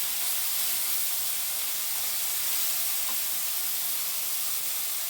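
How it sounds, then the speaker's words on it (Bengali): Tomato puree frying in a pan, a continuous bright hiss of sizzling oil and steam, even and unbroken for several seconds without any voices. "টমেটো পিউরি কয়েক সেকেন্ডের জন্য এর যে একটা গন্ধ আছে সেটা চলে যাওয়া অবধি আমি এটা একটু ভেজে নেব"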